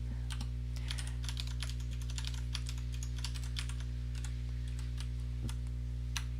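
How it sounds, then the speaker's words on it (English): Steady keyboard typing on a computer during a live JavaScript coding session, a quick run of close, crisp key clicks over a constant low electrical hum. "We go to the browser, type something, it works."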